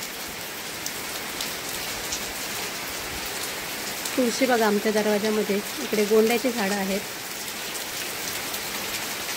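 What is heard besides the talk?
heavy monsoon rain falling in a village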